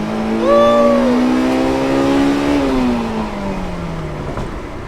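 A 2002 Honda S2000 pulls hard in first gear, its engine note climbing loudly and steadily before easing off as the revs drop, heard from inside the car with no talk.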